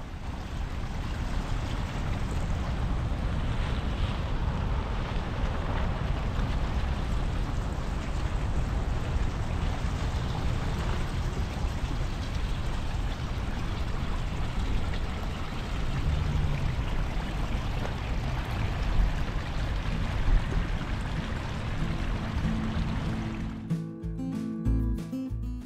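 Steady heavy rain pours during a storm in the desert around Quartzsite, a dense broadband wash of drops and running water that holds an even loudness throughout, with no talking.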